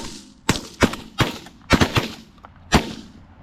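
Shotguns fired at geese landing close by during a goose hunt in Pennsylvania, a rapid volley of about six loud, sharp blasts in quick succession with brief gaps between them.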